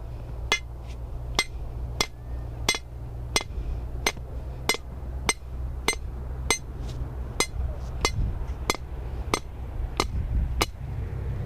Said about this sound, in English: use a piece of rebar and a sledgehammer to make a hole instead of pounding on the stake